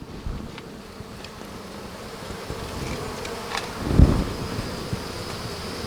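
Honeybees buzz steadily around a hive in a bee yard where a new queen has been introduced, a continuous insect drone close to the microphone with light wind noise and a brief louder swell near the end.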